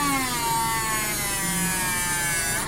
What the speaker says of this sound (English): Now I'm going to move over to my Dremel.